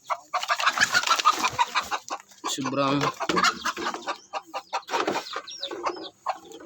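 A mother hen on a breeding farm gives soft, repeated clucks alongside other chickens, near and fairly quiet, while a person speaks briefly.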